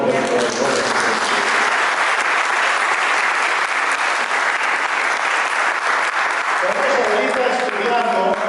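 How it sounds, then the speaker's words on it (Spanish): A church congregation claps loudly and continuously for over eight seconds, a thick, sustained wash of applause filling the room without a break. "un aplauso al Señor"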